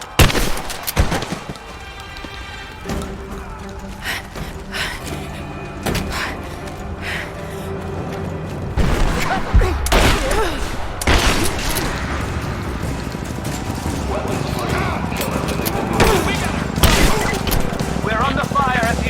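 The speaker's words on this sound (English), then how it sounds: "We're under fire at the edge of the village." Gunfire erupts at the edge of a village in Rise of the Tomb Raider, a ragged mix of sharp shots, booms and bursts that thickens into sustained, loud volleys midway through.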